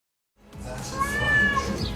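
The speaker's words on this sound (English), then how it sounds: "A guy was filming his cat inside his house" A house cat meows indoors, one long, wavering cry that starts abruptly after a brief silence and holds fairly loud and close to the end, with no talking.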